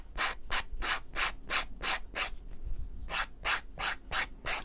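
A wooden quilted frame is sanded by hand with quick, rhythmic back-and-forth strokes, each a bright rasping scrape, about a dozen in a row, close and fairly quiet.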